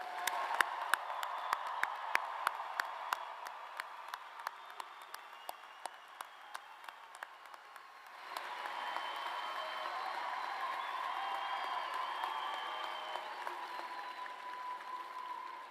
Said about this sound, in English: Let's give it another round of applause here.